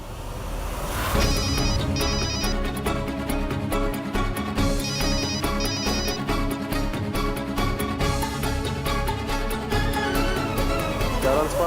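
A telephone rings repeatedly in a Hindi television drama scene, the ringtone's bursts standing out clearly over a busy, loud background of music that runs throughout.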